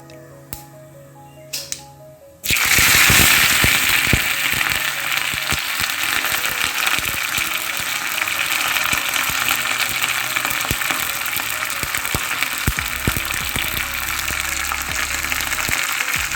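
Mustard seeds and curry leaves hit hot oil after a couple of quiet seconds, bursting into a loud, steady sizzle and crackle that continues without talk.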